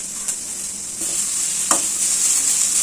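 Mint and curry leaves roasting in a hot pan on residual heat, a bright steady hiss with a few sharp crackles and scrapes, close and unaccompanied by speech.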